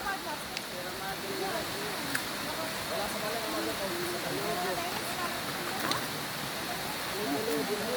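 Steady, dense hiss of heavy rain pouring down continuously in Baler, Philippines, with faint voices now and then in the background.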